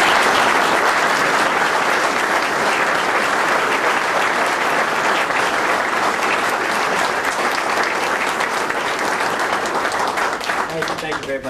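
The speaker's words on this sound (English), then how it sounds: "I had so much applause" Loud, sustained crowd applause greets a coach at an Aggies press conference in Las Cruces, dense clapping running unbroken for over ten seconds.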